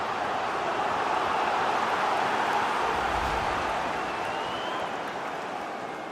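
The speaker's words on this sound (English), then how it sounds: "just listen to the crowd" A stadium crowd in a FIFA 22 Premier League match roars as a dense, steady wash of noise, loud and continuous, thinning slightly toward the end.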